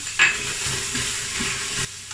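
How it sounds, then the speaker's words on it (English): Onions and peppers dry-fry without oil, sizzling and hissing steadily in a hot Instant Pot, with soft stirring scrapes and a brief louder crackle near the start. "I'm gonna saute these for about 2-3 minutes first before adding my ginger"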